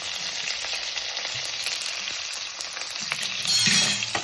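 Mustard seeds, curry leaves and chopped onion frying in hot oil for an okra huli, a steady close, loud sizzle with crackling spits and a brief surge near the end.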